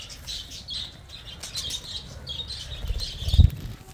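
Lovebirds chirp in quick high bursts while wings flap close by, a soft fluttering that swells into a stronger flurry near the end, with no talk.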